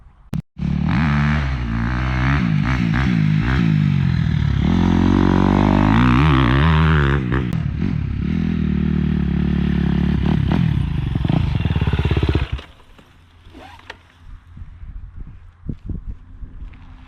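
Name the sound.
dirt bike riding through ruts with throttle control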